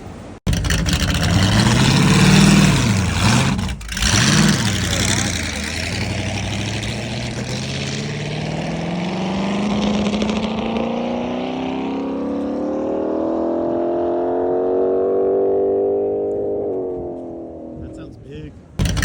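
An SG250 sidecar motorcycle engine runs loud and close, its pitch swooping up and down with revs before settling into a rising drone that fades near the end.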